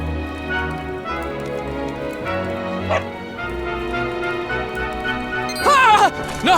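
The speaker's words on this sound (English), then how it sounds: "Not a dog! Anything but that!" A dog barks and yips in the video game Dragon Quest XI, several sharp close barks over game music, ending in a whimpering yelp.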